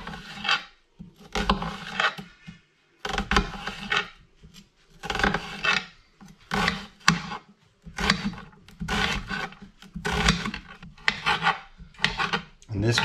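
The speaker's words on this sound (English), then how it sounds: "A nice big onion here. I'm going to finely chop this." A knife finely chops a large onion in close, repeated bursts of rasping cuts against a board. The strokes come in rhythmic runs separated by short pauses.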